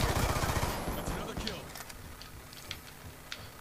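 Gunfire in Black Ops 2, a burst of shots opening the moment and quickly fading, followed by scattered faint game sounds and distant pops.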